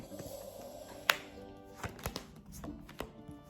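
A deck of tarot cards being cut and shuffled: a sharp snap near the start, then scattered soft taps and riffling clicks, close and quiet.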